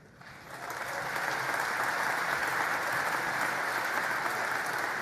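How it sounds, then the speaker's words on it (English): Sustained applause from a gathered audience, a dense steady patter of many hands that swells in over the first second and then holds at an even, moderate level without voices. "Golf clap, golf clap."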